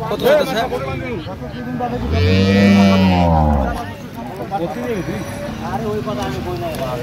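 Cows and calves low at a busy cattle market in Dinajpur, one long, loud bellowing moo rising over constant crowd talk and chatter.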